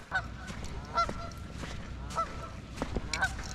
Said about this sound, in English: Can really hear the geese out here.